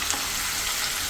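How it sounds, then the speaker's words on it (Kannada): Onion paste frying in hot oil with cumin seeds, a steady, dense sizzle that holds evenly from start to finish with no voices. "ಈರುಳ್ಳಿ ಪೇಸ್ಟು ಸ್ವಲ್ಪ ಫ್ರೈ ಮಾಡ್ಕೊಳ್ಳೋಣ."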